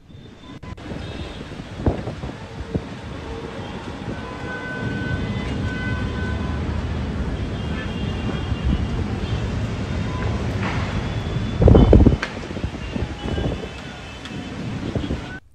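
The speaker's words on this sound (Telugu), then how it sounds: "ఘట్కోపర్, ములిడ్, విక్రోళీతో పాటు దక్షిణ ముంబైలో బలమైన గాలులు వీచాయి" Strong winds in Mumbai, a steady rushing roar with buffeting gusts against the microphone and a loud burst near the end.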